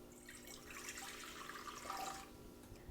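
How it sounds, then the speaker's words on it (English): Warm water is poured into a KitchenAid stand mixer bowl for bagel dough, making a soft, steady splashing stream for about two seconds before it tapers off, quiet and close with no talking. "I'm going to pour 1 1/4 cups of warm water into my KitchenAid bowl."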